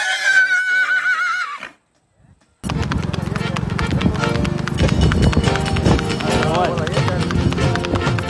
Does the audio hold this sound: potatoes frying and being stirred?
no